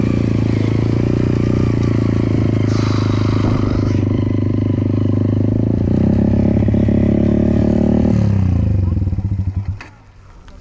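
Dirt bike engine roars steadily and loud while riding through muddy ruts on a track, with clattering and scraping as it churns along, then the revs drop off near the end.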